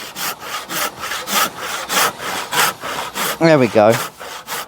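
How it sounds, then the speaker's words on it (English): A sharp handsaw cuts through wood in a series of even, rasping strokes, close and loud, with a person speaking briefly near the end. "Can't beat a decent sharp handsaw."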